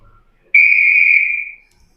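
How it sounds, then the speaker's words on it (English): One clear, steady whistle blast lasts about a second, then fades out, with near silence before and after. "Wait for the whistle."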